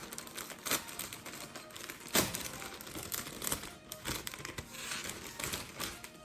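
Parcel being unboxed with crinkling plastic packaging, a string of close, irregular rustles and sharp crackles over several seconds, with no talking.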